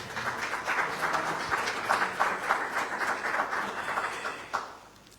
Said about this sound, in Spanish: Un aplauso para don Omar Gutiérrez